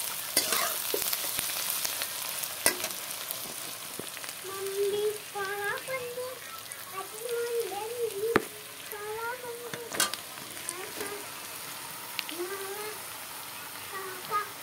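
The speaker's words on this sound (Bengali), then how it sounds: "এখন চিকেনগুলো ঢেলে দেবো।" Chicken sizzles and fries in a pan over browned onions, a steady crackle with occasional sharp clinks of a utensil and a faint voice.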